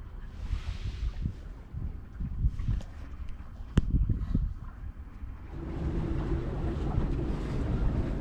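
Strong gale wind roars and gusts around a Nor'Sea 27 sailboat anchored out in open water, with a steady close rush of wind and water through the whole stretch, swelling louder toward the end.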